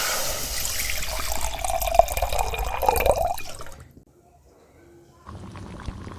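Water pours steadily into a metal pan on a lit gas stove for a few seconds, its pitch rising as it fills, then stops, leaving quiet kitchen background.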